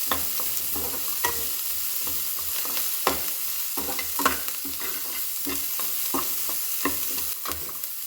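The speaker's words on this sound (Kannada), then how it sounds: "ಈರುಳ್ಳಿ ಎಲ್ಲ ಫ್ರೈ ಆದ ಮೇಲೆ ಇದಕ್ಕೆ ಗ್ರೀನ್ ಚಿಲ್ಲಿ ಹಾಕ್ಕೊಳ್ತಾ ಇದ್ದೀನಿ." Chopped green chillies and onions fry and sizzle steadily in a pan as a spoon stirs them, giving repeated scraping clicks throughout, with no talking.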